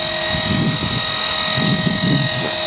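A radio-controlled 450 Pro helicopter hovering close by, a loud constant high-pitched rotor whine with a steady tonal hum and a fluttering low chop throughout.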